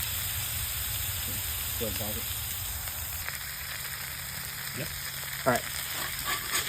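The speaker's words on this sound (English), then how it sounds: "to give it a good sear real fast. On the griddle side." Redfish on the half shell searing on a griddle over an open fire, a steady close sizzle and hiss, with a few quiet spoken words and brief scraping touches over it.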